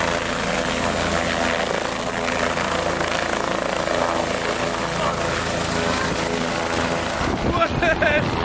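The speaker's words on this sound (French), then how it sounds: "Je suis assis dans un hélico, mon gars." Steady, loud rotor and engine roar fills a helicopter cabin throughout, a dense continuous drone with a brief change near the end.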